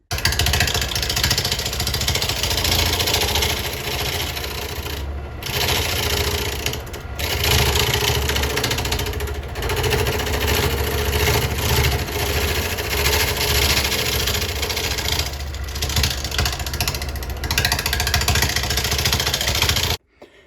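A wood lathe spins a cherry burl bowl at slow speed while the inside is cleaned up, producing a steady motor hum with scraping from the tool, and brief dips where the cut pauses.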